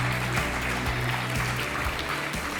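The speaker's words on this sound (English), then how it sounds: "round of applause, please," Audience applause at a community sports dinner honoring inductees, a broad steady wash of clapping filling the room, with music or a sustained tone underneath and no clear talk over it.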